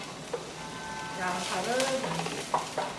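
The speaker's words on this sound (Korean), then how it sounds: "기름 두르시고, 뭘 넣어주셔야 되냐면, 뭘 볶아주셔야 되냐면, 양파를 볶아주시는 게 좋겠죠." Onions stir-frying in oil in a frying pan while making japchae give a quiet, steady sizzle with a few soft stirring scrapes, close by.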